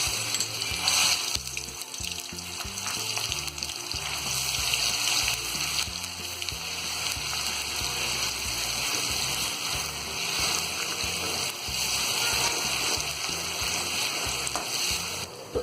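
Ginger-garlic paste fries in hot oil in a kadai, giving a steady, dense sizzle that stays loud and unbroken throughout.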